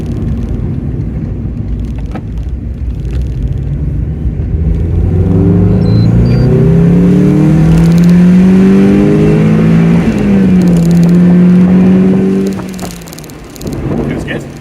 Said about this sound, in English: it's good you get the revs up there and keep them there